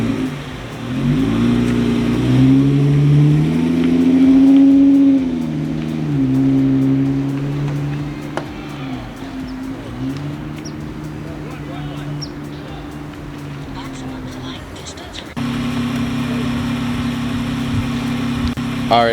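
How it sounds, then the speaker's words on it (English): A Jeep Wrangler engine warming up, rising and falling revs with a tonal drone before settling into a steady idle, close by, with low background noise and a few faint clicks. "The engine's still warming up."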